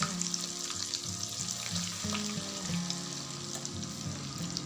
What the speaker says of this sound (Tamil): இப்போ பிரெட் க்ரம்ஸ் போட்டதை பொரிக்க போகிறேன்.